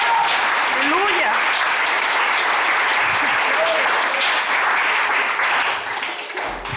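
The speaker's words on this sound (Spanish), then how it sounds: "Dele otro aplauso y con ganas" Church congregation at a Spanish-language worship service applauds in a loud sustained wave, with scattered shouts and voices over the clapping before it thins near the end.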